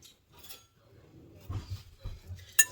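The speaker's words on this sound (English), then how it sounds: "Let's get this all whisked together" A whisk stirs baking powder, baking soda and other dry ingredients for sourdough pancakes in a bowl, giving soft, uneven clinks and light scrapes against the bowl that end in a sharper metallic tap, no talking.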